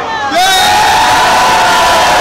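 Loud crowd at an Orange Revolution street rally in Kyiv, sustained cheering and roaring voices with a held collective shout rising after a brief start, dense and continuous.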